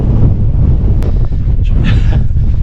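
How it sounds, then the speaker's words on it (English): Strong gusting wind on Sheffield Pike buffets the microphone in a loud, continuous roar, with a brief rustle and flap of tent fabric partway through. "I think it's gusting around 25 mile an hour now, 30"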